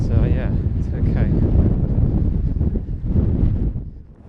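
Strong wind on a mountaintop in the Brecon Beacons buffets the microphone in heavy rumbling gusts, loud and close, with a voice faintly breaking through the roar.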